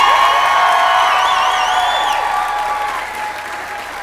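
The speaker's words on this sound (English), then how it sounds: "one more giant round of applause for our amazing young musicians here" Sustained, loud applause with scattered cheers and whoops from a school audience after young musicians perform at an elementary holiday concert, tapering off gradually near the end.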